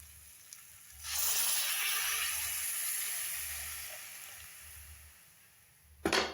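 Water hits a hot pan of spicy Maggi noodles and bursts into loud hissing sizzle that slowly fades, followed by a short clatter at the end.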